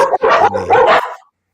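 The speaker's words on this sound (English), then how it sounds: "Oh, there's a doggy." A small dog barks excitedly near a livestream desk, a few quick sharp yips and barks in close succession, loud and near, then silence.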